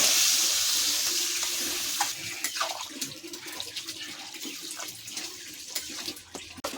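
Water pours into a cooking pot of Bengali prawn and elephant-foot yam curry, a loud gushing splash that fades into bubbling and scattered drips, with no talking.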